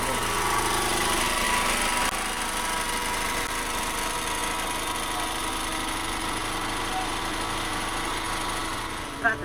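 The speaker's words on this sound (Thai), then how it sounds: "คือเสียงเครื่องจักรปั่นไฟ" A generator engine runs during preparations for a rural wedding, giving a steady, continuous mechanical drone at close range throughout, with faint voices in the background.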